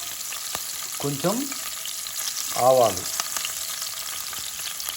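Green chillies and cumin frying in oil for aloo methi fry, a steady close sizzle with occasional sharp crackles and pops, and someone speaking briefly twice over it.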